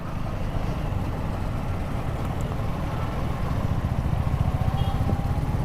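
Road traffic passing around a KTM Duke 250 motorcycle riding in Hyderabad, a steady rumble of engines and tyre noise that swells slightly toward the end, with no voices.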